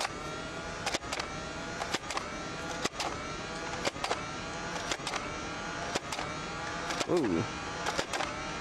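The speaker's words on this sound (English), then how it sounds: "Let it rev up, and 10 shots." A Nerf Rayven CS-18 blaster whirs as its motor revs up, then fires ten shots in steady, evenly spaced snapping thumps over a continuous motor drone, with a brief exclamation from a voice.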